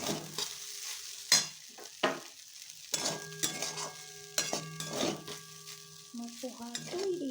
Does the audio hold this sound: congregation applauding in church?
no